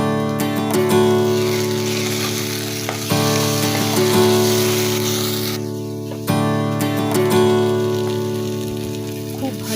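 Spice paste (masala) sizzles and fries steadily in a wok for veg biryani, a dense continuous crackle with occasional stirring scrapes and a faint steady hum beneath, no voices.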